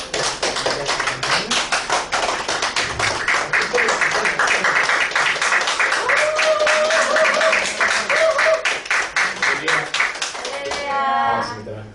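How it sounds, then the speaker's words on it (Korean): A church congregation at a Friday prayer meeting claps hard and steadily together for about twelve seconds, a dense, even patter of many hands, with a voice briefly heard over it near the end. "우리 한번 힘차게 박수 주시기 바랍니다."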